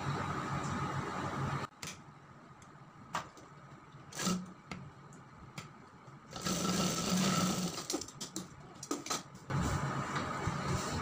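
Sewing machine stitching a sleeve onto a garment, running in several close, loud bursts of steady whirring separated by short pauses, with no talk.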